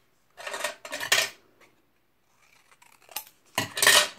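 Scissors snip through card paper to trim a paper house for a handmade greeting card, in three close bursts of cutting with a pause between, no talk.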